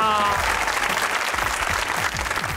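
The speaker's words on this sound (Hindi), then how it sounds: "तालियां।" Studio audience on a Pakistani comedy talk show claps loudly and steadily in dense, continuous applause lasting a few seconds, close and full, with a voice briefly audible over it.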